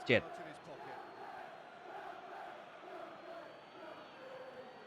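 Crowd of football fans cheering in PES2021 during a simulated Burnley versus Chelsea Premier League match, a steady distant roar under a Thai commentator's voice.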